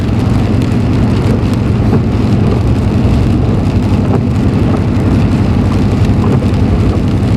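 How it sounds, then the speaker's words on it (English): Steady, dense rain falls on a car in Everett, a loud, continuous wash of noise with no pauses and a low rumble beneath it. "Oh yeah, it's still raining."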